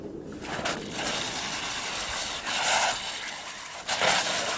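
Loud, roaring water rushing through a valve, a broad turbulent rumble that surges in bursts, close by and without speech.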